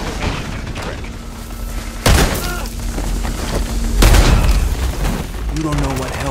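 A thermite charge blasts through a wall in Call of Duty, giving two sharp, loud booms about two seconds apart over constant game ambience, with a voice speaking in the background.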